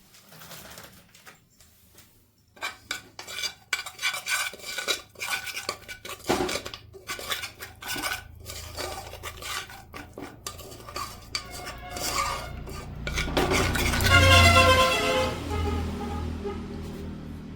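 A spoon clatters and scrapes against a bowl while ingredients are mixed with salted stock, steady clinking that grows louder and denser toward the end, with no talking.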